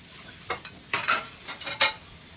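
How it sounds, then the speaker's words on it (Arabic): Spoon stirring freekeh with spices and fried onion in a pot for eggplant maqluba, a few short scraping strokes with a soft sizzle, fairly faint and close, no talking. "بخلطهم لحتى يتخلط البهار مع الفريك"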